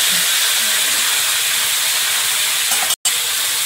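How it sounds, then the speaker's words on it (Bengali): Elephant foot yam frying in hot oil in a home kitchen, a loud steady hiss and sizzle that runs throughout, broken by a brief dropout near the end. "এই পাশে ওলটা ভাজবো।"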